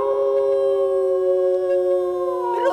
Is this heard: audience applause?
no